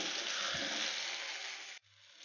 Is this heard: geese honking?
no